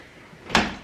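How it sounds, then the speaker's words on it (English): A bedroom closet door in a house is pushed shut with a single close thud and a short fading rattle, near and fairly loud against a quiet room. "Closing the door."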